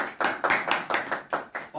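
Rhythmic hand clapping from an audience at a farmers' union gathering, about seven evenly spaced claps in quick succession, close and fairly loud with no talk over them.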